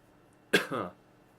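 A single close, sharp cough with a short raspy follow-through, then silence.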